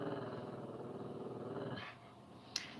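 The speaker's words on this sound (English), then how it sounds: "So she's barking at them." A dog growls in a low, steady rumble at people standing outside a window, nearby and moderately loud, breaking off into a brief sharp sound near the end.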